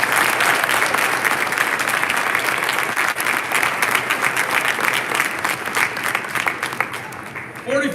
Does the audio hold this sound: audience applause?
yes